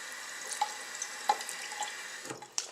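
Tap water runs steadily into a sink while a makeup brush is rinsed under it, a close continuous splashing with small drips and knocks.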